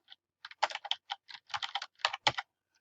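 A computer keyboard is tapped in a quick, uneven burst of crisp clicks close to the microphone, ending on a final firm keystroke, with no voices.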